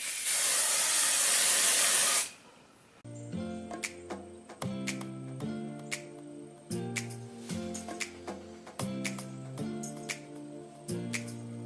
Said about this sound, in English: Take some hairspray.